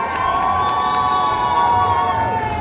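Audience at a cosplay contest final in Le Mans cheering and whooping, a dense sustained crowd roar with shouts and a high tone running through it, heard close and loud throughout.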